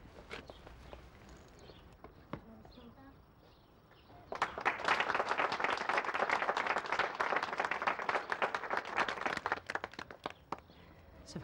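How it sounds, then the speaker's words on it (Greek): Audience applause in a TV comedy episode, starting as a few sparse claps and footsteps, then swelling into dense, steady clapping that holds for several seconds before tapering. "Νομίζω αυτό το χειροκρότημα είναι για σένα, Βάλια."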